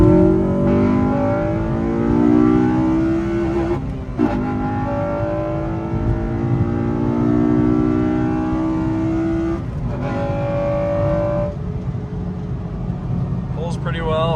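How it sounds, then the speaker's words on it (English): An 8th-generation Honda Civic Si engine, warmed up, revving hard through VTEC: repeated rising pulls with a sharp climbing whine, brief gear-change dips between them, loud and close with a voice talking over parts of it. "So here's a little video of what it sounds like. Hitting VTEC, it's warmed up"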